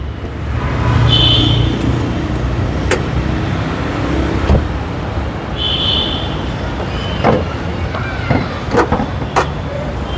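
A 2020 Mitsubishi Eclipse Cross runs with its engine on, giving a steady, smooth hum close by, broken by a few sharp clicks and brief mechanical whirs.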